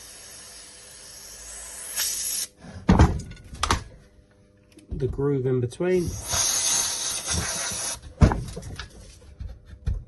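Short bursts of multi-purpose lubricant spray hiss from an aerosol can onto a Makita tool being repaired, close by, with someone speaking briefly between the sprays.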